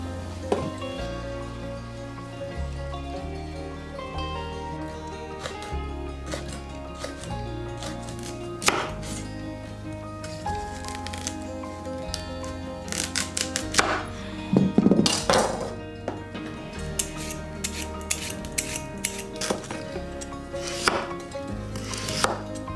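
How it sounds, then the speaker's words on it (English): Knife chopping boiled green pea pods into small pieces on a board while preparing chirashi sushi, a quick run of crisp taps with a few louder knocks midway, heard alone without talk. "Green pea pods should be boiled and cut into small pieces."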